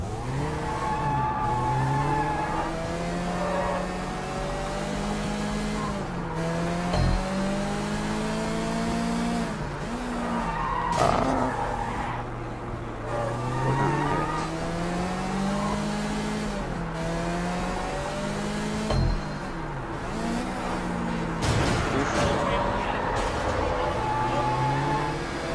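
Car in the video game Sleeping Dogs, engine revving up and down through repeated gear changes, with sliding skids and tire squeal at several points, loud and steady throughout.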